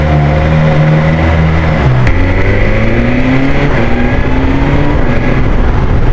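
A warmed-up motorcycle engine, settled at idle near 1500 RPM, revs and pulls away as the rider sets off on a superbike ride; loud and close, with a rising drone and gear shifts, no speech.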